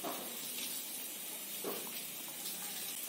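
Potatoes for a meat curry frying in hot oil, a faint steady hiss and soft sizzle with a few gentle spits, no voices.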